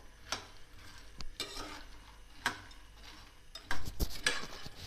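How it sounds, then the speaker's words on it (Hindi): Fox nuts (makhana) being roasted on low heat and stirred in a pan, with repeated sharp scraping and clinking strokes of a spoon against the metal over a quiet, faint sizzle, close by and without speech. "ये मैंने फूल मखाने भून लिए।"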